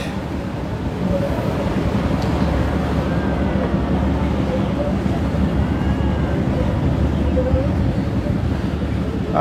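Strong wind buffets the deck of a river launch on the Hasnabad route, a steady roaring rush with water wash and engine rumble beneath, loud and continuous throughout.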